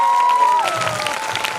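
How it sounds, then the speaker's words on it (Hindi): Audience applause and cheering from a crowd at a motivational life-story talk, a steady dense clatter of clapping filling the room under a sustained tone that drops in pitch partway through. "एक जोरदार ताली होनी चाहिए।"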